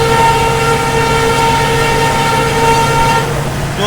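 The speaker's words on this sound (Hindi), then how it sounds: "बढ़िया हॉकिंग के साथ किया पालम भाई।" A train horn sounds loud and sustained from the Salasar Superfast Express as it passes on the Delhi–Jodhpur line, over steady rail rumble, then cuts off near the end.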